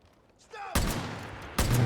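Rifle fire in a stealth shooter video game, loud close bursts of gunshots, the first starting partway in and a second burst near the end, with game sounds beneath.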